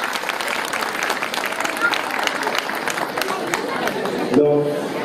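An audience at a ceremony on an Indian-culture fair stage applauds with dense, steady clapping throughout, with crowd murmur mixed in and a brief tonal sound near the end.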